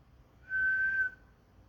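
A single clear, pure whistled note from a distant butcherbird rises out of quiet and hangs for about half a second before fading, faint and distant-sounding.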